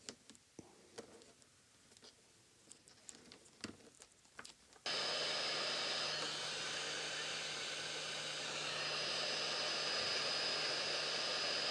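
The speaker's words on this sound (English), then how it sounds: "I'm going to put some electrical tape over these and some heat shrink tubing to have it a bit more secure." Heat gun shrinking heat-shrink tubing over taped electrical wires: a few sharp handling clicks come first, then a loud steady blowing roar starts suddenly and holds for several seconds.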